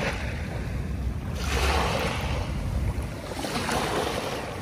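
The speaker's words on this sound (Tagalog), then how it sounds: "Ang sarap makinig ng hampas ng alon." Surf washing against the shore along Manila Bay near the dolomite beach, two broad swells of rushing water rising and falling over steady wind rumble, close and fairly loud with no voices.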